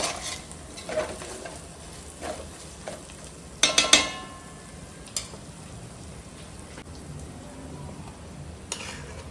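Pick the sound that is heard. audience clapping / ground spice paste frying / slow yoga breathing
ground spice paste frying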